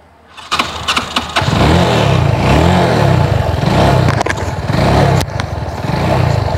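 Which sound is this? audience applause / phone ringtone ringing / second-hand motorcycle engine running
second-hand motorcycle engine running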